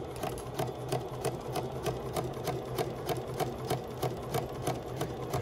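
A sewing machine back-stitches a dart in fabric, its needle hammering in a fast, even, close-up rhythm without pause and without speech.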